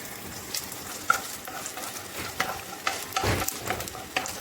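Garlic sautéing in a pan as the sauce for chicken nugget afritada begins, a soft steady sizzle with occasional stirring scrapes, fairly faint and close.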